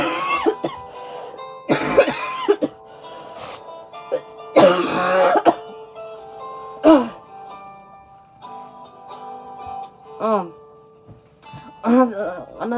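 Several short, harsh coughs and throat-clearing bursts from a person with COVID-19 come in scattered bouts, close to the microphone, with quiet stretches between them.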